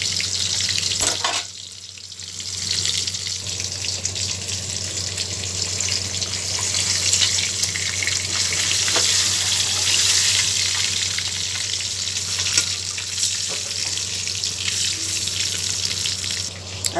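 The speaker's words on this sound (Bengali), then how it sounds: "এবার সিদ্ধ করে রাখা নুন হলুদ মাখানো ডিমগুলোকে এবার ভেজে নেব।" Boiled eggs coated in salt and turmeric frying in a pan, a continuous moderate sizzle and crackle with faint watery spatter, no talking, one brief sharp knock early on.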